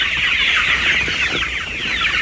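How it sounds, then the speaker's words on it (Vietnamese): Chickens at a 45-day-old poultry farm cluck and chatter busily while being fed, a close, continuous flock sound with overlapping calls. "bây giờ là mình đang cho gà ăn các bạn nhé"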